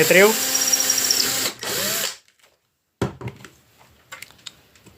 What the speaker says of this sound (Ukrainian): роблю отвір 6 мм